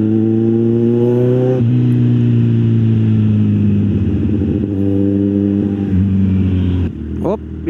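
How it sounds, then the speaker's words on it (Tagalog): Yamaha X-Max scooter engine heard loud and close from the road, its drone rising in pitch through several accelerations and shifts, with voices talking over it. "Ganda ng motor nyo. X-Max ba to? Bilis din ah."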